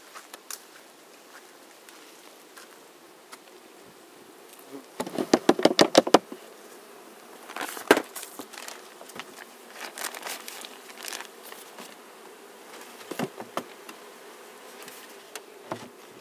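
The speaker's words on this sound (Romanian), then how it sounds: "un roi, știu eu cât, o ramă de albină poate." A late-summer swarm of honeybees buzzing, with a steady low hum and several loud, close buzzing passes as bees fly near, some louder bursts standing out.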